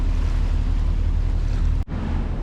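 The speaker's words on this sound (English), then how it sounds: "Here we see a little bit closer of the ferry passing us from behind" A river ferry passes from behind, a loud, steady engine-and-water wash heard close up with wind noise, cut by a brief dropout near the end.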